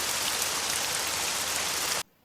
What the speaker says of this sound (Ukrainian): Так, шум дощу.